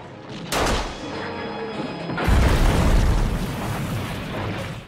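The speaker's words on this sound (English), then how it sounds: "A puff of smoke from the explosion" A sharp explosion bursts out, then a second, heavier blast follows with a deep rumbling roar that lingers loudly.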